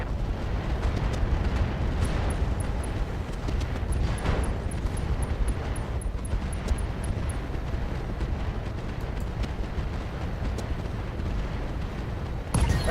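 Heavy mech weaponry in a video game, with autocannon and Gauss fire and missile salvos, unleashing booming explosions over a dense, continuous roar, with rapid crackling bursts scattered through.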